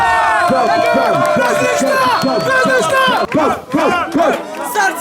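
Excited crowd in a Goussainville neighbourhood shouting, whooping and cheering together in rising and falling yells, loud and close, with brief dips near the end; many overlapping voices dominate and individual clapping is not distinct.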